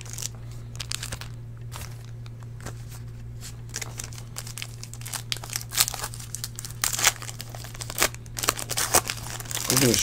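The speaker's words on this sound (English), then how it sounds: "I'm gonna straight up open up all these packs here." Foil wrappers on Panini Select basketball card packs being torn and crinkled open close up, a continuous crackly rustling with sharper rips, over a steady low hum.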